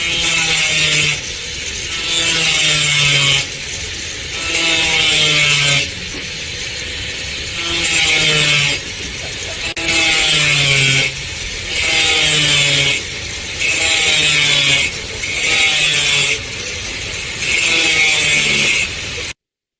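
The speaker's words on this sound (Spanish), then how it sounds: "Observen qué sucede con esta amoladora, lo deja se desenchufa, lo deja prendido en la máquina y miren lo que sucede" An angle grinder left switched on runs in a machine-shop safety demonstration, its motor whining in repeated surges, loud and close, cycling roughly every two and a half seconds with grinding and rattling between surges.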